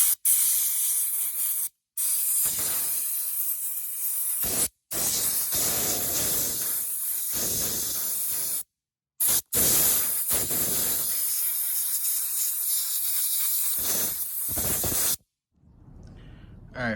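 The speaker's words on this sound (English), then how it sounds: "I'll just blow this off with some compressed air" Compressed air blasts dirt off a dirty Briggs & Stratton plastic lawn mower carburetor in a series of loud, close hissing bursts, several seconds each, separated by brief silent gaps.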